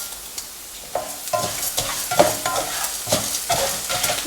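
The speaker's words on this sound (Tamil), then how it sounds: "நம்மளுடைய இந்த பருப்பெல்லாம் நல்லா நிறம் மாறுறதுக்கு முன்னாடியே நீங்கள் அதை சரியாக வறுத்து எடுத்துடணும்" Urad dal and coriander seeds dry-roasting in a pan for vangibath, heard as close, rhythmic stirring scrapes and rattles over a light sizzle that grows busier as the clip goes on.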